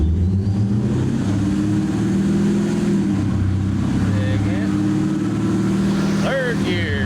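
A supercharged Dodge Charger engine on a dyno runs with a loud, steady drone that climbs in pitch through the gears, with a rising whine near the end.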